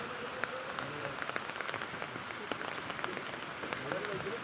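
Dense, steady heavy rain hisses and patters continuously at a construction site during concrete casting of a main roof slab, with a voice faintly audible beneath it.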